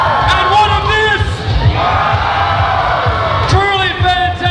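Cosplay show audience at EB Expo 2012 cheering, whooping and yelling in a loud crowd swell, with voices rising in bursts over a steady roar.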